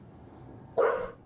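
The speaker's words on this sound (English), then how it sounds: "Dogs will be dogs." A single short bark from Loki the dog, fairly close and clear against a quiet background.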